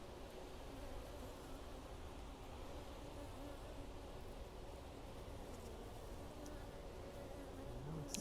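Honey bees buzz inside the hive, a dense, continuous hum of many wings at close range, steady and moderately quiet throughout with no voices.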